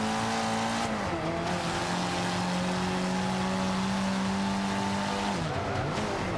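Race car engine in the Forza Motorsport 5 video game on Xbox One, a damaged car with a sustained steady engine drone that shifts pitch twice, with tire squeal, continuous and loud with no talk.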